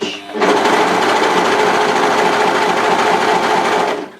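A sewing machine sews a sleeve onto a dress in one continuous burst of fast, even stitching, close and clear, starting abruptly and stopping just before the end.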